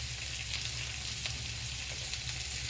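Tamarind and ginger fry until crisp in palm oil, giving a steady, dense bubbling sizzle that holds at an even level throughout, close and unbroken.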